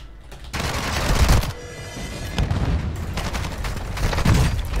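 Gunshots in Call of Duty Warzone during a riot shield match, loud close bursts of rapid fire followed by a sharp single crack and more shooting amid dense battle noise.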